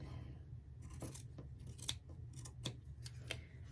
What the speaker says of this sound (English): I'm just going to take my scissors and I'm just going to cut